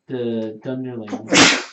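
A single sharp, loud sneeze bursts out right after a short stretch of a man's speech during a tabletop board game session.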